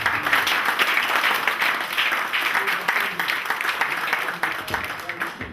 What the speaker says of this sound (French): je voudrais qu'on applaudisse davantage pour eux